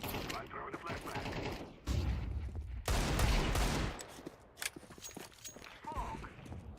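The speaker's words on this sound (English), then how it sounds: "I'm throwing a flashbang." Counter-Strike 2 match with grenade and flashbang play: several loud broadband bursts and bangs, the strongest about a second long near the middle, amid gunfire-like pops and footsteps, under dense game noise and occasional voices.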